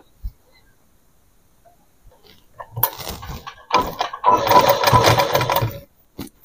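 A sewing machine stitches fabric for a long gown, starting after a quiet pause with a short burst, then running steadily and close for a couple of seconds before stopping.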